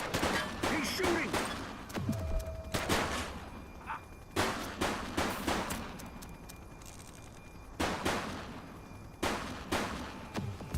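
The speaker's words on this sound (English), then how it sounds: "He's shooting!" Police shootout with armed suspects in The Precinct video game: repeated bursts of loud gunfire crack in clusters across the scene, with brief voices heard between the volleys.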